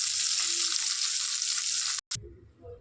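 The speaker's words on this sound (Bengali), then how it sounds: "মাছটা ভাজছি। এদিকে মাছ ভাজা হচ্ছে।" Fish frying in oil for a Bengali fish curry, a dense continuous hiss of sizzling that cuts off abruptly near the end, followed by a few faint low knocks and quiet room sound.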